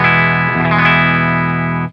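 Electric guitar in bypass tone straight after the tuner, a single sustained chord ringing steadily for two seconds and then cut off abruptly, close and fairly loud with no talking.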